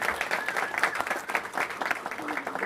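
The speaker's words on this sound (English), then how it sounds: "That's worth a round of applause" A crowd at a school district event gives a round of applause, a brisk, fluttering clatter of many hands that stays fairly even throughout, with voices mixed in.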